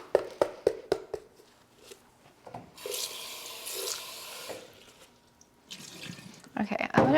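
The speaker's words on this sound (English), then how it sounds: "I'm gonna rinse this through here and I'll dump this outside." Water running from a sink tap as sifted potting soil from a Monstera plant is rinsed, a hissing flow starting after a few close knocks and clatters, stopping, then resuming with scraping and rinsing.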